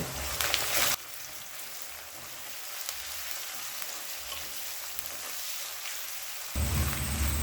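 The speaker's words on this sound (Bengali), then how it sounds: "মিডিয়াম ফ্লেমে রেখে 4 থেকে 5 মিনিট পেঁয়াজটা ভেজে নেব।" Sliced onions fry in a pan over a medium gas flame with bay leaf and salt, giving a constant soft hissing sizzle, with a fuller, louder patch at the start and end.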